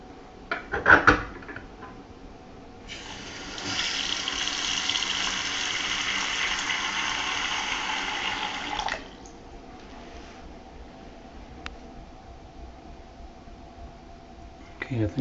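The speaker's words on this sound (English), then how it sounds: "Turn on some water." Water runs steadily from a sink faucet into the drain for about six seconds in the middle, with quieter handling clicks and knocks before and after.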